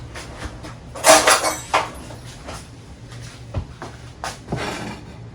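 A metal pot lid clanks and scrapes as a pot of stuffed cabbage is opened in a home kitchen, with a loud clatter near the start and a few lighter knocks and taps afterward.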